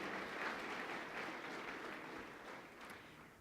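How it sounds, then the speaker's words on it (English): Audience applause for a nursing team at a Healthy Heart Day survivors walk event, a steady, dense clapping from a sizable crowd that holds throughout with a slight fade toward the end. "A huge round of applause for the nursing team that was with us this morning,"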